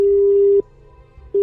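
A telephone line gives its busy tone: a loud, steady beep that cuts off, leaves a brief pause, then sounds again, heard alone during a phone call.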